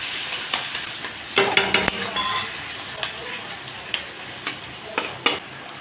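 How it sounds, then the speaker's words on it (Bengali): Onions and tomatoes frying in a pan give a soft sizzle, broken by sharp clinks and scrapes of a spoon stirring against the metal at an irregular rhythm. "এখন পেঁয়াজ আর টমেটো আমি একটু ভালো করে ভেজে দিলাম।"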